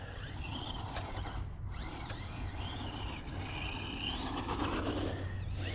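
A budget RC car with a nickel-metal hydride pack and brushed motor drives on a real RC track, its electric whine rising and falling continuously as it accelerates and slides, with steady outdoor background noise.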